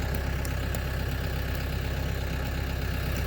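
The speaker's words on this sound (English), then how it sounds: "Got Optimus tractor out." A Branson tractor engine idles steadily and loudly up close, a dense continuous rumble with a faint regular knock and no other sounds over it.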